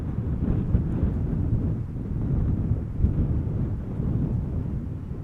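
Gusty wind batters a microphone at Schiphol Airport, a deep, rumbling buffet that rises and falls in irregular surges, fairly loud and continuous with no voices.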